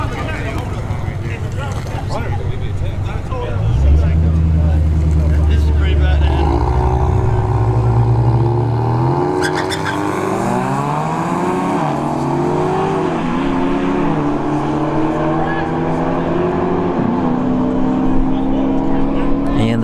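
A Dodge Charger and an EcoBoost Mustang launching side by side at a dragstrip test-and-tune session, engines revving loud and close, then roaring away with rising, shifting engine tones as the cars pull off.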